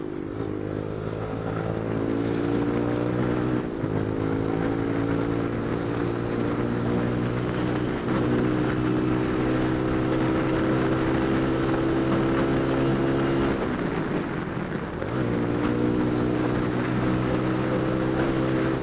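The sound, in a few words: motorcycle being ridden, wobbling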